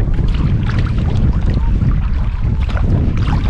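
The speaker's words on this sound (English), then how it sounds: "right now I'm paddling into a wind" A kayak is paddled into a headwind, with loud, steady wind buffeting the microphone and water rushing along the hull, with no clear separate paddle strokes.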